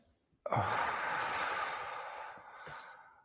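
A single deep breath is let out in one long, audible exhale that starts with a sharp onset and slowly fades over about three seconds, close to the microphone.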